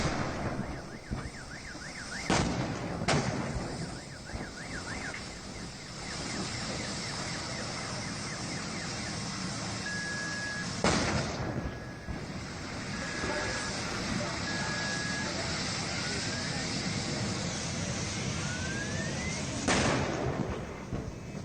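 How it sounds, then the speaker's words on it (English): A burning vehicle produces repeated large explosions, sharp booms spaced several seconds apart over a constant roar of fire, with a siren or alarm wailing in the background. "those regular large explosions are not really indicative of a lithium-ion battery and thermal runaway"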